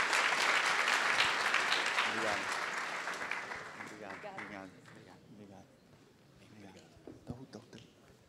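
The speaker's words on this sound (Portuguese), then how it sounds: "Uma salva de palmas aí para o projeto GEA." Audience applause at a hackathon presentation, a loud dense burst of clapping that gradually thins and fades, with voices talking over the tail end.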